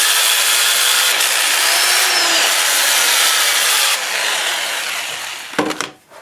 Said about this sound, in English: I can sand it just as good, if not better, with sheets of paper like this